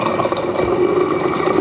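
Clean fresh water, a litre in all, is poured into a container for a salt-water mouthwash. It makes a loud, steady, close gurgling stream throughout.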